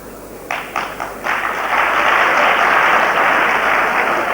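A live audience at a 1986 Delhi kavi sammelan poetry recital breaks into applause, a few scattered claps first, then swelling into dense, sustained clapping that fills the room, on an old VHS recording.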